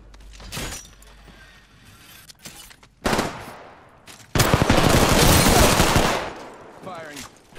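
Gunfire in the Apex Legends video game: a few sparse shots and bursts early, then a sudden long, loud sustained automatic burst that fades out, with brief speech nearby.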